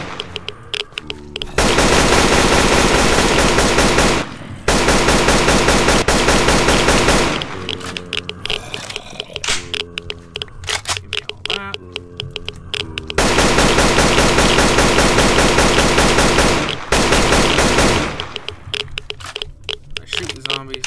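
Machine gun fire at zombies in the video game Rust, long loud sustained bursts of rapid automatic shots separated by brief pauses, with a voice talking between and over the bursts.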